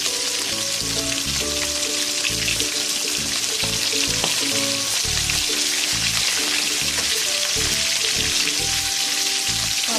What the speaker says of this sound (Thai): ทอดวันนี้จะทอดปลาร้าปลานินนะคะ